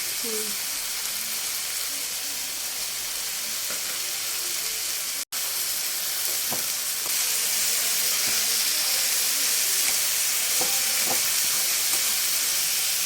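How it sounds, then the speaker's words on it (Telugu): Ginger and garlic pieces frying in a hot pan with a loud, continuous hiss and sizzle, broken by a brief dropout and a few soft utensil taps. "అల్లం వెల్లుల్లి ముక్కలు వేస్తాను"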